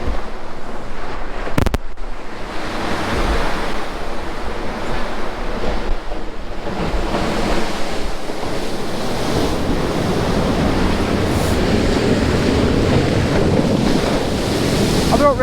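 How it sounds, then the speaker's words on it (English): Sea surf rolling and breaking steadily onto a beach on the UK east coast at Withernsea during beach casting, loud and continuous with heavy wind buffeting the microphone and a brief knock early on. "I don't really want to reel in through these waves."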